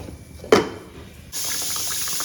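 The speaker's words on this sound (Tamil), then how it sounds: "இப்போ தண்ணியை வடிச்சிட்டு இந்த சேவையை தனியாக எடுத்துக்கலாம்." Cooking water is drained off boiled rice sevai (idiyappam noodles) for lemon sevai: a brief splash, then a steady rushing pour of water running out.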